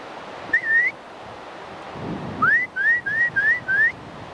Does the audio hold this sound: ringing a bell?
no